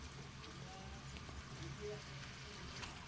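Raw banana slices frying in hot oil give a steady, soft crackle and patter like light rain. The sound is continuous and fairly faint throughout, with no talk over it.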